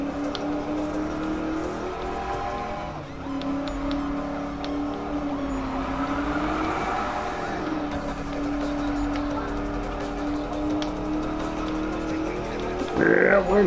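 A racing car engine drones and revs continuously in Need for Speed, with pitch sweeps as it shifts and a brief burst of tire squeal near the end, loud and steady throughout.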